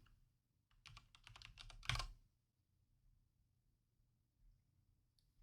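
A short flurry of quick keystrokes on a computer keyboard, close and fairly soft, lasting about a second before quiet returns.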